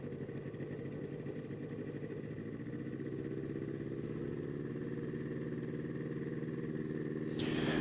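A two-stroke ultralight aircraft engine idles at low throttle for a magneto check, giving a steady droning hum that swells slightly toward the end, with no talking.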